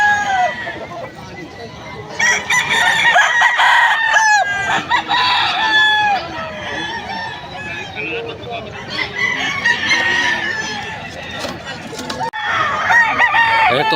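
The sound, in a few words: many chickens and roosters crowing at a market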